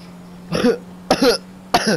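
Three sharp, harsh coughs in a row, close and fairly loud, separated by short pauses with a faint steady hum underneath.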